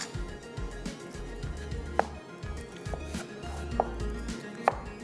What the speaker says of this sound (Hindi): प्याज को करेंगे स्लाइस।